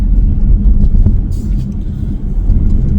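A car driving along city roads, heard from inside as a steady low engine and tyre rumble that holds at a fairly even loudness for the whole stretch.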